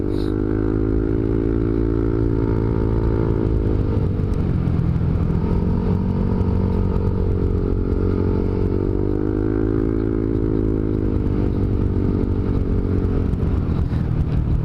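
A motorcycle fitted with an aftermarket exhaust pipe revs hard past 5,000 RPM, a loud, close, sustained roar with rising and falling engine pitch that fills the whole stretch.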